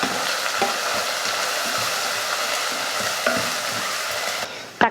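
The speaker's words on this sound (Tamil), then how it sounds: "தக்காளி போட்டு ஓரளவுக்கு வதங்கிருச்சு" Tomato sautéing in a pan for mutton kulambu after ginger-garlic paste, a continuous loud sizzle and frying hiss with occasional stirring scrapes, ending in a sharp clank.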